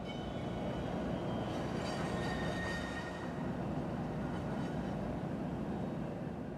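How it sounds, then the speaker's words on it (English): A Canadian National freight train rolls past grain silos at the edge of Green Valley, Illinois, a continuous loud rumble of wheels and railcars with faint squeals and a tonal hum above it. "we'll see CN train C787 passing by some grain silos just on the edge of Green Valley, Illinois."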